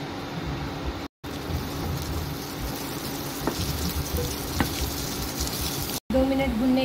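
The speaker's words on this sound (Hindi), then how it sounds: "इसको भी हम 2 मिनट तक के भुनेंगे।" Chopped bell pepper and onion frying in a pan, a steady soft sizzle running throughout at low level, briefly cut out twice.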